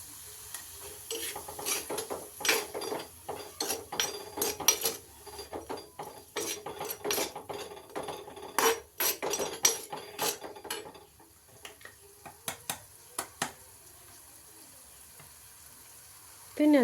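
Turmeric and spices being stirred and fried in a pan for a Kannur-style fish curry: irregular scraping and clattering strokes of a spoon over a soft sizzle, busy at first, then sparse taps near the end.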